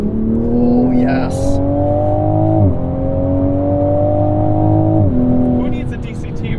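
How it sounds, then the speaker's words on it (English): Toyota Supra 3.0 with a ZF eight-speed automatic, its exhaust droning loud and close as engine pitch climbs, then drops sharply at two quick upshifts with brief burbles, while people talk over it. "A healthy amount of burbles."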